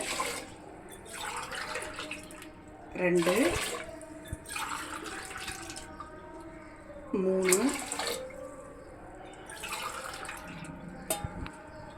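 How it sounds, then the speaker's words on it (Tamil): Water is poured from a tumbler into a pot in several separate pours, each a brief gurgling splash, while a person counts aloud in Tamil in between. "நாலு டம்ளர் தண்ணியும் அரை டம்ளர் பாலும் விட்டுக்கிறோம்"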